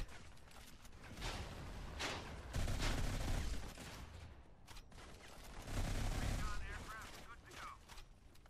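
Rapid automatic gunfire from the mobile shooter Modern Combat 5 crackles in quick bursts, with a couple of heavier rattling volleys, all fairly quiet and dense.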